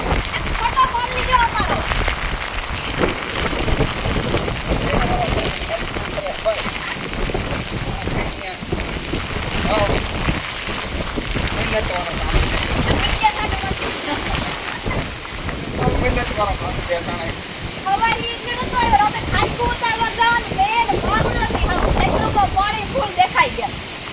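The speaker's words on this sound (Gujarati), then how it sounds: "જોરદાર અટાણે મે આવ્યો ફૂલ મે આવે ગયો" Heavy rain pours steadily throughout, a dense roaring wash with wind buffeting the microphone, while someone talks over it.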